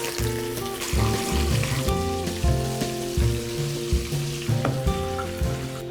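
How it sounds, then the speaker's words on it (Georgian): Meatballs browning in a well-heated frying pan, sizzling steadily and close while tonal music plays over the top, with no talk. "კარგად გახურდა უკვე ტაფა, გადავიტანოთ ბურთები ტაფაში, რომ კარგად დაიბრაწოს"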